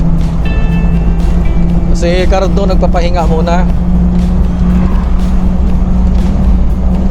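A petrol-engined Multicab idles with a steady, close low hum that runs under someone talking, with some brief higher whines in the middle.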